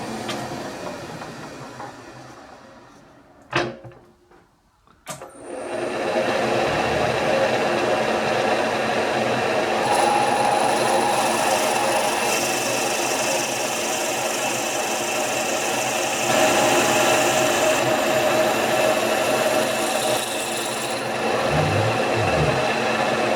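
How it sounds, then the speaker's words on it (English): A long series 8mm drill bores through metal while modifying a slotter assembly, a loud, steady, whining grind that starts abruptly after a few short clicks and runs continuously with no talk. "I've got a long series 8mm drill which will go all the way through."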